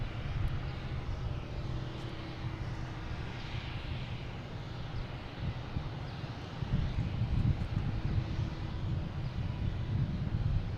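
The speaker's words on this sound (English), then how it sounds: "You got United here going to Chicago, and A321 Neo flight 2040." A United Airbus A321neo jet bound for Chicago at Boston Logan gives a low, steady, distant rumble that stays fairly quiet, with faint wind noise.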